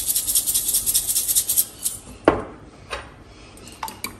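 Two eggs with a pinch of salt are beaten in a small plate: quick, rhythmic utensil clinks at first, then a few sharper isolated knocks against the dish.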